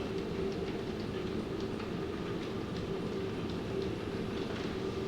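A model railway locomotive runs steadily on an operating-session layout, giving a continuous rolling rumble with faint rhythmic wheel clicks, close and even in level throughout.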